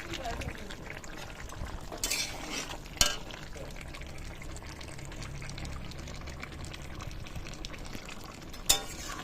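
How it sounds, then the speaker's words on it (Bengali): Cock chicken curry cooks down in a pan as its released water is dried off, giving a soft wet bubbling and stirring with a few sharp clanks of utensils, while someone talks faintly. "জলটা আমি শুকিয়ে শুকিয়ে ঢেকে দেবো আর শুকিয়ে কষতে থাকবো"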